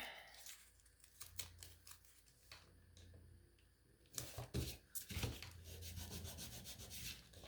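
Someone rubs firmly over a surface with tape, producing scratchy, uneven strokes close by that build to a denser, steadier friction toward the end, fairly quiet with no talking.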